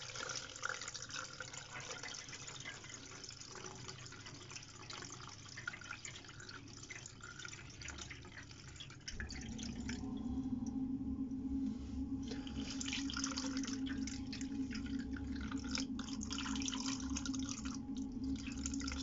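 Water pours steadily from 5-litre containers into the fuel tank of a Honda CB125 RS motorcycle to de-rust it, a continuous trickling and filling that deepens into a stronger, lower gush partway through, with no talking.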